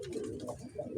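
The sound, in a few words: pigeons cooing in cage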